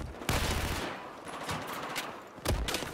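Gunfire from a machine gun in the Battlefield 4 video game, with loud broadband bursts of shots near the start and again toward the end, separated by a continuous din of battle noise.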